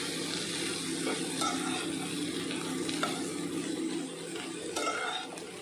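Oats being stirred in a pan for khichuri, a close, steady sizzle with scraping stir strokes and soft clinks of utensil against the pan.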